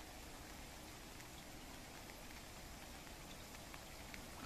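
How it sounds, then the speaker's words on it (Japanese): Heavy rain pours beside an irrigation canal during a fishing outing, a dense, even hiss of drops filling the air with faint scattered patters, continuous and fairly quiet, no voices. "雨が強くなってきたので、もうそろそろ終わりにしたいと思います。"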